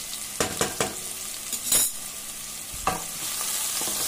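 Spring onions sautéing in a pan with fenugreek, a steady sizzle broken by several sharp clanks and scrapes of a utensil stirring against the pan.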